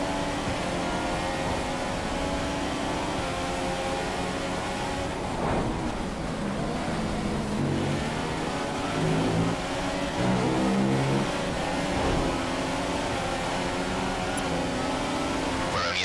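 A Formula 1 car engine roars steadily in the F1 2015 racing game, a continuous loud whine with shifting pitch as the car runs close behind another, with no talk.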